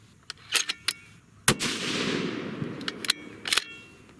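A single loud, close rifle shot from a custom 6.5 Creedmoor firing a Hornady 100 grain ELD-VT handload, with a long ringing decay after it and a few smaller clicks and knocks before and after.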